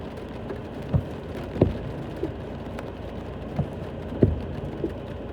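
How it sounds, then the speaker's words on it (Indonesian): Steady rain hisses softly and continuously, with occasional louder drips and taps landing nearby. "Nikmati hujan dahulu kawan ya"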